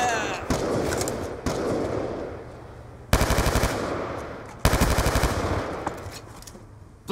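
Bursts of rapid automatic gunfire from Call of Duty: Black Ops 2 multiplayer on PC come in dense, loud volleys separated by short gaps, with distant game noise and faint voices in between.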